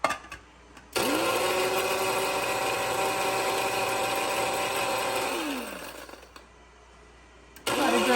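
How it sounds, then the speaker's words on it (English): Shardor electric coffee grinder grinding dried herbs, a loud steady motor whine that spins up sharply, holds for about four seconds, winds down, then starts again briefly at the end. "And this was my main reason for getting the grinder, to grind up my herbs that I have."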